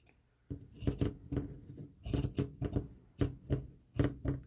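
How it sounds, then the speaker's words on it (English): Big old fabric scissors snip through fabric while sewing a face mask, giving a rhythmic series of crisp cutting crunches, close and moderately loud, with no talk. "I have no idea how I inherited this big old fabric scissors, but I love it. It cuts pretty well."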